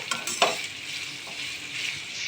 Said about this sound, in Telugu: ఇది మంచిగా ఆయిల్లో ఫ్రై కావాలి ఆనియన్స్ వచ్చేసి ఎంత మంచిగా ఫ్రై అయితే అంత టేస్ట్ ఉంటుంది